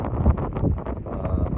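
Low, gusty wind buffeting the microphone on a cattle farm, a continuous rumbling rush with no talking.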